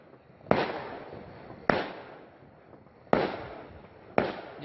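Egg firecrackers set off on New Year's Eve, four sharp loud bangs at irregular intervals, each with a crackling burst that fades into a short echoing tail, with no talking.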